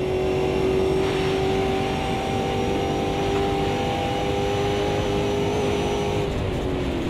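Race car engine in the Automobilista 2 racing game on a wet track, a steady loud drone with a sustained tone that shifts slightly as the car slides sideways, running alone throughout.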